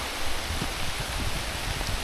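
Heavy rain pouring in the countryside: a dense, steady, even hiss of rainfall with no breaks or voices.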